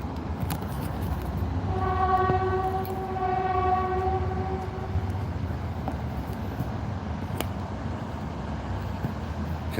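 A train at the Fort Worth train and bus station sounds a long two-part horn blast over a steady rumble of rail traffic, fairly loud and nearby.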